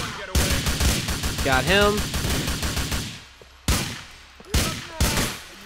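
Rapid gunfire in a Grand Theft Auto shootout in Liberty City, a dense burst of shots under a voice, then a few sharp, loud single shots spaced apart.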